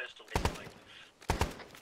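Two short bursts of video game gunfire crack out close and loud, each a quick cluster of shots, separated by a brief lull.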